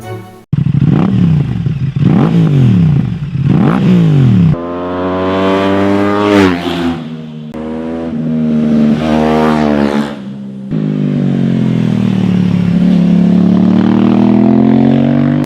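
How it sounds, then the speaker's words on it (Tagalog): Aprilia RS660 motorcycle, 100 HP, revving hard in a series of loud, close throttle blips and sustained high revs, each burst climbing in pitch then dropping back, with no speech. "This is how the RS660 sounds."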